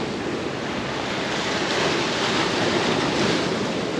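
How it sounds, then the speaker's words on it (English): Sea water surging and splashing against shoreline rocks on a Jamaican fishing outing, a steady close roar of surf with wind, no voices. "Water splash up."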